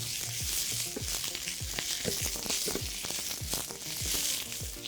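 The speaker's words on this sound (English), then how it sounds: "I love that sound of that sizzle when it hits the pan." Teriyaki sauce sizzles and crackles steadily in a hot pan for salmon, a dense hiss with frequent pops and bubbling throughout.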